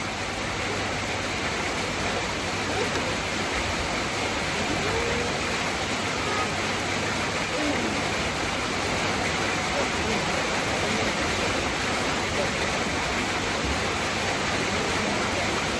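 Heavy rain pounds a tin roof in a dense, unbroken roar that stays loud and even from start to finish.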